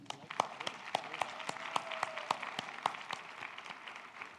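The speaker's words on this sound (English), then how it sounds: "Just clap it up for you." Applause from a seated audience at a family services permanency conference, a light and moderately distant patter of clapping hands with a few sharper individual claps standing out.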